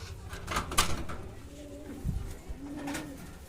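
Red Nun fancy pigeons coo softly in a loft, with several low throaty calls and a few thumps and rustles nearby.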